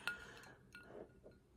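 A glass bottle of San Pellegrino clinks once with a bright, short chime near the start, followed by a few faint lighter knocks and handling sounds at close range.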